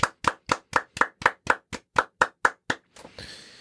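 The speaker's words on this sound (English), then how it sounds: "one last round of applause" A round of about a dozen sharp, evenly spaced claps from a small group of hosts reacting to music, close and distinct, then trailing into a brief noisy rustle.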